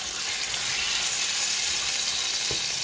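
Honey garlic pork chops frying in a pan, a loud, dense, continuous sizzle and crackle held close with no talking, one faint soft knock near the end.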